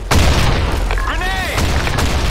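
A grenade bursts in the shooter game Blackshot with a loud, deep boom and a rumbling tail. A few gunshot cracks follow, and a voice calls out briefly in the middle.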